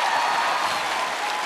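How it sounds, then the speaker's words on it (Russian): A television studio audience on a Russian talent show applauds, dense sustained clapping filling the room at even volume with no voices over it. "Эркин Холматов, ваши аплодисменты."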